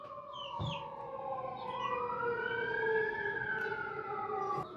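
An ambulance siren passes nearby on a city street, its wailing tone rising and falling steadily over a few seconds at a moderate distance.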